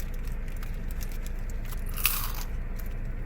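A single crisp bite into a crispy fried chicken sandwich about two seconds in, a short crunchy crackle standing out against steady low background noise.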